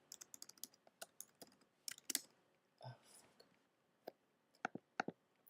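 Fingers type on a computer keyboard, writing an email: close, quiet bursts of crisp key clicks with short pauses and a soft rustle in the middle.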